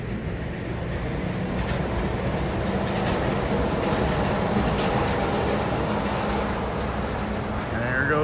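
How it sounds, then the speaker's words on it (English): Disney World monorail passing overhead, a steady broad rumble and whir of the rail vehicle, fairly loud and continuous, with voices talking quietly in the background. "We got a monorail going above us."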